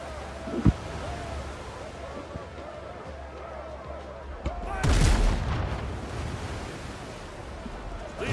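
Ship cannons firing in WindRose, a sharp boom early on and a heavier blast midway, over a constant wash of ocean waves and wind.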